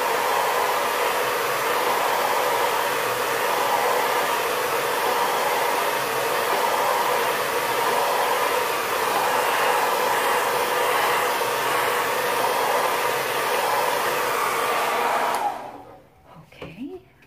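A hair dryer blows steadily at close range, drying paint on a canvas, with a loud constant rushing whoosh that runs for about fifteen seconds and then cuts off abruptly, leaving a few faint handling noises.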